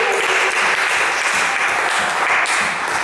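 A church seminar congregation bursts into sustained, dense applause, a steady wash of many hands clapping close by without a break.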